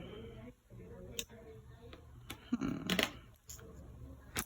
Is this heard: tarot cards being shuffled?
yes